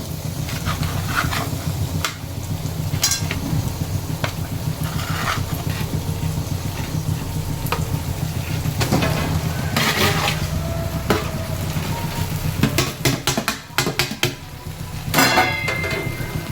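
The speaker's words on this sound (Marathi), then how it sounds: "आणि याला चांगलं व्यवस्थितपणे हलवून घ्यायचं." Half-boiled biryani rice being stirred in a pan over a lowered gas flame, with repeated scraping and stirring strokes and occasional sharp spoon knocks against the metal over a steady low cooking hum, no talking.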